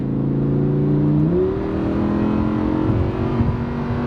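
Lamborghini Huracan LP580-2 engine in sport mode, a steady loud droning rev that steps up in pitch partway through as throttle builds, heard continuously from close by with no talk.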